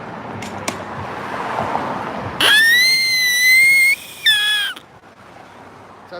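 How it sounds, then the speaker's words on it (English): A whistle blown at a street protest gives a loud, shrill sustained blast followed by a shorter second blast, rising above faint street background. "blow a literal whistle"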